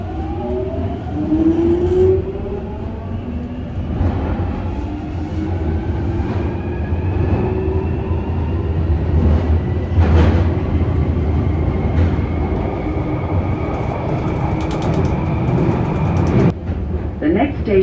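London Underground Jubilee line train running, a loud continuous rumble and roar with rising and falling whine as it accelerates, close and enveloping, with faint announcements at times.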